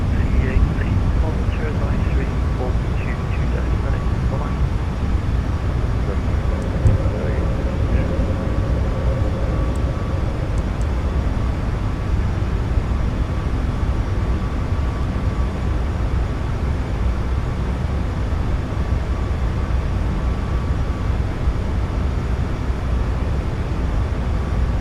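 A Boeing 737 MAX 8 taking off in the iFly flight simulator game, a steady loud engine roar with a constant hum through the climb while people talk over it.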